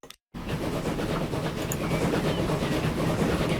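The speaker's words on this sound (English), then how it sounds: "It's a train just going through a junction." A train in Transport Fever 2 rolling through a junction, a loud steady rumble of wheels on rails with rhythmic clicks over track joints, starting abruptly after a brief silence.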